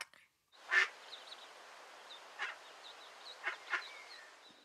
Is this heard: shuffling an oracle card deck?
no